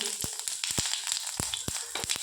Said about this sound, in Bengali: কড়াইয়ে তেল গরম হয়ে গিয়েছে। এবার ফোড়নের জন্য গোটা জিরে দিলাম